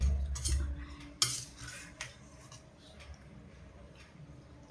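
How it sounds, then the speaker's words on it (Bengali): Cutlery and dishes clink sharply a few times as rice is served onto a plate at a home lunch, with quieter scraping and handling sounds in between and no talking. "আমি এই যে ভাত বেড়ে নিচ্ছি।"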